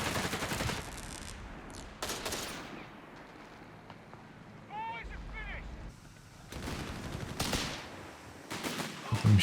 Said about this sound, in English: Machine gun covering up nicely.